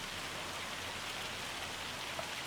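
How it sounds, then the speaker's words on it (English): Steady rain falling in the farming game Farming Simulator 25, a constant even hiss of rainfall with no pauses, fairly soft and alone. "It's been raining terribly, so hopefully it'll stop soon"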